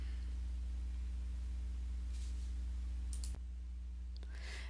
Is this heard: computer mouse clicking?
yes